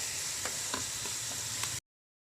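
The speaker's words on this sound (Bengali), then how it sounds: "এখন ওলের ডাটাটাকে খুব ভালো করে কষিয়ে নেব" Boiled elephant foot yam stalks stir-fried in spice masala give a dense, close sizzle with soft rhythmic scrapes of a spatula, then stop abruptly.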